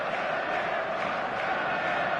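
Steady roar of a packed stadium crowd in a football game on PlayStation 5, a constant dense wash of voices and chanting at even volume throughout.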